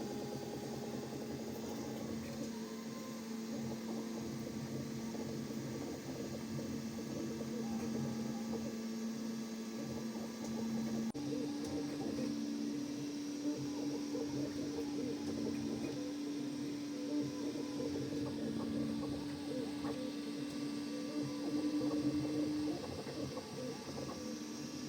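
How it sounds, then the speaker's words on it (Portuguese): An Anycubic Kobra X 3D printer runs its automatic bed leveling routine, a steady, fairly faint mechanical hum with sustained stepper-motor tones that shift in pitch partway through, continuing alone without speech. "Agora eu coloquei ela pra fazer aqui o nivelamento da mesa."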